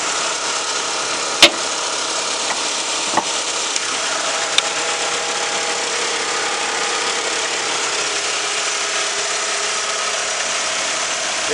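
LDV G10 van with a 2.4 litre engine idling under the open bonnet, a steady, even mid-pitched hum with a few brief clicks near the start, heard up close.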